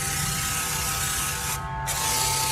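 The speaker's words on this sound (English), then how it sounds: "Spray it all over." Steady broadband hiss of a water sprayer running continuously, close and fairly loud, with a brief dip in the highest hiss partway through.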